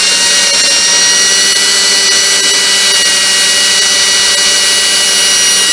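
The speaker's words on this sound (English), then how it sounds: "As long as you can drill it somewhat straight," A power drill boring out a broken bolt, a loud, steady high-pitched whine that holds constant from start to finish, close to the listener.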